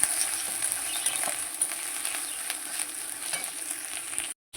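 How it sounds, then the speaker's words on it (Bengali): Spices frying in hot oil for a lote fish jhuri dish, a steady dense sizzle with faint stirring scrapes, close and fairly loud, cutting out briefly near the end. "মশলাটা একটু ভাজা হয়ে যাক"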